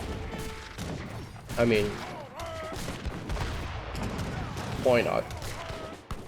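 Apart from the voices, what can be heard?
mortars firing to siege, from video game Age of Empires III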